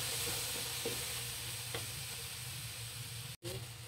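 Dried fish (tuyo) fries in a little oil in a pan while being stirred, giving a steady close sizzle with occasional scraping taps from the stirring.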